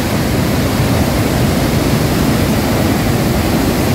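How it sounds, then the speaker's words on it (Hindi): River water rushes through the Head Marala headworks on the Chenab River, a loud, steady broadband roar of fast-flowing water that stays constant with no break and no voices. "यहाँ से पानी गुजर रहा है।"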